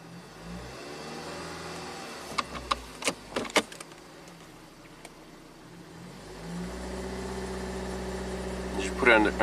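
Ford Escape with a turbocharged GDI engine running steadily at idle and under load in gear, a continuous low mechanical drone with a few sharp clicks and knocks midway and some added noise near the end.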